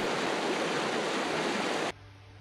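A small stream rushes steadily with a dense, hissing wash of flowing water, loud and close, then cuts off abruptly near the end.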